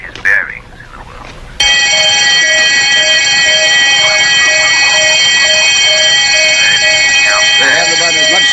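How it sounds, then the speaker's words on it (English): An electric alarm bell starts abruptly and rings continuously and loudly, a steady harsh metallic tone filling the scene, with faint voices beneath. "Just the new alarm."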